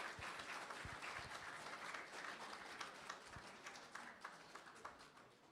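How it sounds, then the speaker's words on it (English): An audience at a Republic Day school celebration claps for student performers. The applause is moderately loud and dense, with some sharper individual claps, and tapers slightly toward the end. "Can we please once again have a round of applause for all our participants here today?"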